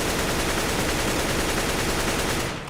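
AK rifle firing full auto in the video game CS:GO, a continuous rapid stream of loud, close gunshots that stops abruptly near the end.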